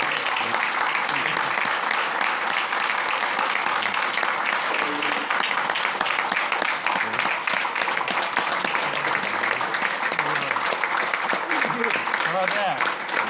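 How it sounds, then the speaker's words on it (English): An audience at a parish council meeting applauds an honoree, with steady, dense clapping lasting the whole stretch at a moderate distance. "So we give him a round of applause."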